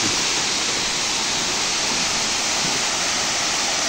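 Bada Ghagara waterfall in Keonjhar pours in a loud, continuous roar of rushing water that stays dense and unbroken from start to finish, heard close with no talking.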